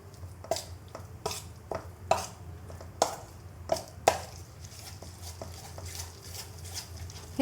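A spoon stirs a vegetable biryani mixture with garam masala and a pinch of turmeric in a pot, giving sharp clinks and scrapes at a steady, unhurried pace, close and fairly quiet, with no voices.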